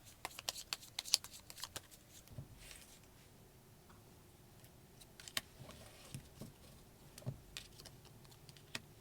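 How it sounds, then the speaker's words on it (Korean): Tarot cards are shuffled by hand, giving soft, irregular flicks and riffles scattered across a quiet, close background, faint overall with no clear talk. "3번님을 위한 조언 카드를 하나 뽑아볼 건데요"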